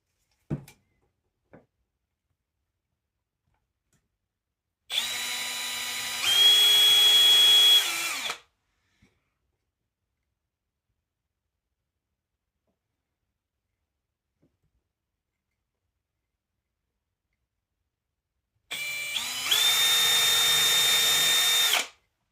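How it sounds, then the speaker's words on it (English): A hand drill bores into a headless guitar bridge in two sustained bursts of steady whine, each about three seconds long, with near silence in the long gap between them. "I'm going to just go ahead and use my hand drill."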